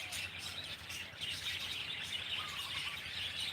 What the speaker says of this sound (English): Some tiny, tiny, tiny little birds are floating around.